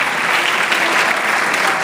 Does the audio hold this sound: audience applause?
yes